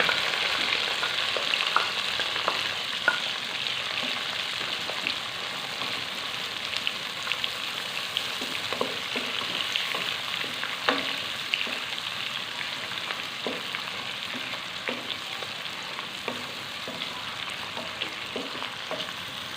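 Onions frying in a pan until browned, for a desi-style egg and chickpea dish, a constant close sizzle with scattered little crackles and pops, steady throughout with no talking.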